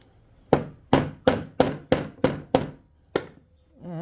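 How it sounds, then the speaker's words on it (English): Eight sharp hammer taps on a hard surface, evenly spaced at first with a short pause before the last, clear and close. "I'm not using much pressure, just kind of just tap it in, tap it,"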